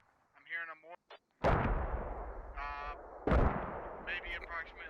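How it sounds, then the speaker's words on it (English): Mortar salvos land in Arma 2: Operation Arrowhead, two heavy booming blasts with long rumbling tails, mixed with bursts of voice chatter between them. "They're using multiple salvos of mortars for one man."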